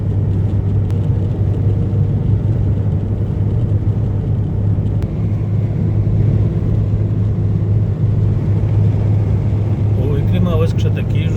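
A car drives on the motorway from Hanover to Cologne, giving a steady, loud interior road rumble with a constant low engine drone throughout and a faint voice near the end.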